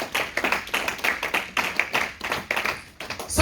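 Church congregation clapping together to acclaim Jesus Christ during a French-language service, rhythmic, close, fairly loud claps in a steady beat of roughly two to three per second, with no talking.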